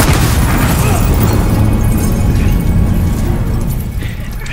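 Bomb blast in the Call of Duty Modern Warfare campaign: a loud, sustained low rumbling boom filling the whole moment, fading slightly at the end.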